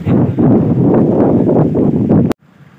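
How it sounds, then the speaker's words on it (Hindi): Strong storm wind during a rainstorm buffets the microphone in loud, rough gusts, then cuts abruptly to a faint background rush near the end. "तेज हवावां चल रही हैं, ते नाल बारिश भी किते किते आ रही है फिलहाल"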